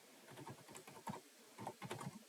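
Rapid, uneven keystrokes on a computer keyboard while a command is entered in a terminal, the clicks close and moderately loud, coming alone in short bursts with brief pauses between.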